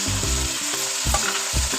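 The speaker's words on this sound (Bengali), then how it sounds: "রসুনটা ভাজা হয়ে গেছে চিকেনটা দিয়ে দেবো" Chicken frying in a pan with garlic, green chilies, whole dried red chilies and bay leaves for a low-oil chicken curry, a loud continuous close sizzle with stirring scrapes.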